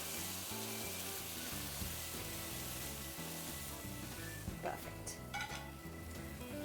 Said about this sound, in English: I'm going to add the warm milk into the pan. Just be careful, it's going to sizzle and it might splatter all around.